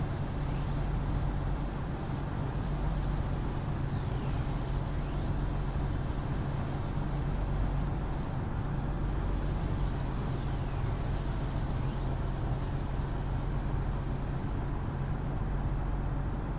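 Loud car just ahead in the Truck World Australia driving game, a steady heavy engine drone with repeated rising and falling whine sweeps over a constant low rumble.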